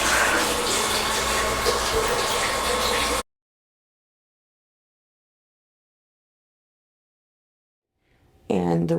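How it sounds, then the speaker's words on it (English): A hotel ice machine's running water gives a steady, loud rushing and splashing like a small waterfall for about three seconds, then cuts off abruptly to silence before a voice briefly speaks. "away from the weird ice machine waterfall thing"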